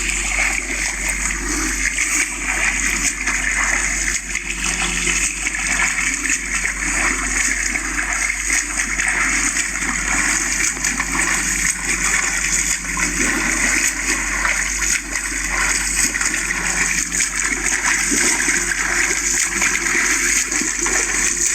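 Water splashes steadily and continuously as someone swims at Geit Fort on the humid Konkan plains, a close, dense wash of sloshing and spattering that runs unbroken with no voices.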